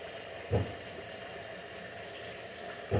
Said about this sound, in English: So, wash my hands.